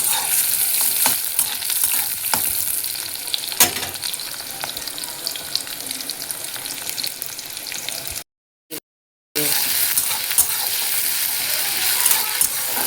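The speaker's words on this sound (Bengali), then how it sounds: "পেঁয়াজগুলোকে খুব লাল লাল করে ভেজে নেব।" Chopped onion sizzles and crackles steadily in a hot pan as it browns for a chicken dish, with scattered stirring clicks and a brief cut of silence partway through.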